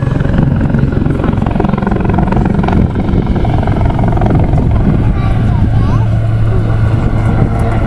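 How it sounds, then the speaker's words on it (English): Aircraft lifting off vertically at the Southport air show, a loud continuous rotor-and-engine roar with a steady low hum that builds slightly toward the end, heard outdoors with crowd noise mixed in. "you've got a classic takeoff in what would be a confined area where they're going straight up into vertical"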